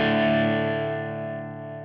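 A sustained, heavily distorted electric guitar chord from a Buzz Feiten Signature Elite guitar through a Fender Super-Sonic 100 amplifier rings out alone and slowly decays, thick with overdrive and sustain.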